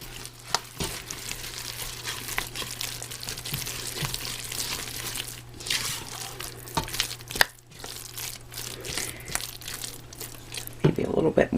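Marshmallows are stirred into a thick no-bake butterscotch and chocolate mixture with soft, sticky scraping and squelching at close range, steady and fairly quiet, while a person talks over it.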